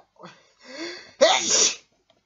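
One person sneezes: a couple of short drawn breaths, then a single sharp, loud sneeze that cuts off abruptly into silence.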